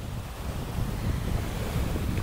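Sea waves and wind form a steady, loud roar at sea, with wind buffeting the microphone and no distinct breaks or voices.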